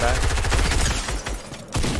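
Rapid bursts of video game gunfire, dense automatic shots layered over one another, loud and continuous through a chaotic firefight in a school-setting shooter match.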